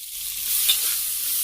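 Chopped onion pieces with salt fry in a pan, giving a steady, hissing sizzle with a soft stir in the middle, close and alone.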